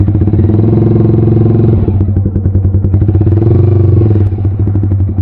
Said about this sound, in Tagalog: Dito muna papark yung motor, or siguro sa kabila.